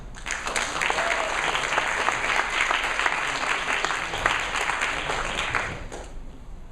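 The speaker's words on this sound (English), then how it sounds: "So give Amir a round of applause" An audience at a technology innovation event applauds a startup founder, a dense, steady wash of many hands clapping at close range, sustained at an even level for several seconds before tapering off near the end.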